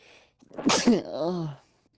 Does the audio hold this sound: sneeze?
yes